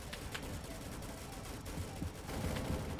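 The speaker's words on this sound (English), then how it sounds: "Bro, where am I getting shot from?" Gunfire in the Roblox war game Rolling Thunder, a faint, distant rattle of scattered shots and bursts over a steady rumbling battlefield background, with no one speaking.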